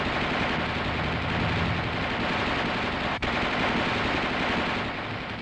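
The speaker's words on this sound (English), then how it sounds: "The gunner continues to fire in 20 to 25 round bursts" Coaxial machine gun on an M551 Sheridan armored reconnaissance vehicle fires a dense, loud, continuous roar of rapid shots, broken by one brief sharp dip partway through before the firing resumes and tapers slightly at the end.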